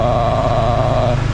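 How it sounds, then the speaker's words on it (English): A motorcycle rolls over brick pavement at night, its engine drone steady and loud with a constant rumbling hum close by and no talk. "as you guys can hear, we're riding over the bricks here"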